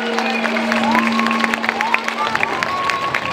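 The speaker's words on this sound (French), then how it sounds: "il faut l'applaudir très fort" Audience at a music competition in Noisy-le-Grand applauding a young laureate, a steady patter of many hands with cheers and crowd chatter mixed in, plus a sustained tone running underneath.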